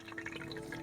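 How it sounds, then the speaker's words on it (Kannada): Mustard seeds and cumin sputter in hot oil for raagi upma, a close, continuous crackle of small pops and sizzles, heard alone. "ಸಾಸಿವೆನೂ ಜೀರಿಗೆ ಚಿಟ್ಲಿದೆ."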